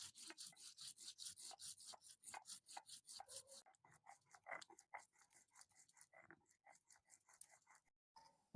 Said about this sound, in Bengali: অল্প করে গোটা ধনে বেটে নেব জিরা ধনে আমি একসাথেই বাটবো